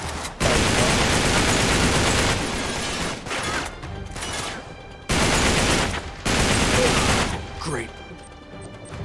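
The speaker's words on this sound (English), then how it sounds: "I'm waiting for the guy with the shotgun." Shotgun fire in the video game Uncharted 3, heavy rapid bursts of gunfire with crashing impacts filling most of the stretch, loud and close, broken by brief pauses.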